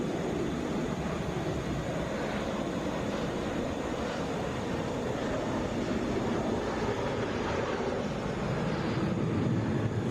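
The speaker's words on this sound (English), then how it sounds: "That's a Boeing 737." A Delta Boeing 737 airliner at Atlanta's international airport, heard as a steady, broad jet engine roar that holds continuously at moderate distance with no breaks and no voices.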